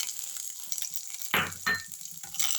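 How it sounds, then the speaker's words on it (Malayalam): Mustard seeds crackle in hot coconut oil for pappadam thoran, a quiet sizzle that jumps into two sharp bursts of spitting and popping midway, close up with no voices. "വെളിച്ചെണ്ണയിലേക്ക് ഒരു കാൽ സ്പൂണോളം കടുക് ഇട്ട് കൊടുക്കാം കടുക് ഒന്ന് പൊട്ടട്ടെ"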